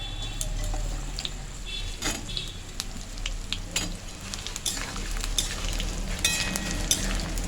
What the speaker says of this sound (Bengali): তেলের মধ্যে একটু আমটাকে আমি ভেজে নিচ্ছি